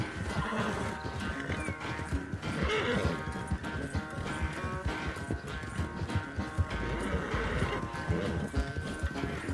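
Rapid rhythmic hoofbeats of a galloping horse in Red Dead Redemption 2 pound continuously, with bursts of whinnying and a busy game-like soundtrack behind them.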